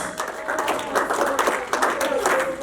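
A congregation claps during a church sermon, a dense burst of handclaps that runs throughout, with voices talking and calling over it.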